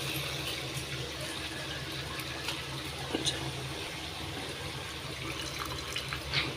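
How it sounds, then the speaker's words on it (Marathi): Soft, continuous sloshing of water with gentle swishes and occasional splashes, quiet and close, as half a kilo of rice is rinsed by hand. "तांदूळ घेतलेले आहे अर्धा किलो आणि स्वच्छ धुवून घेणार आहोत."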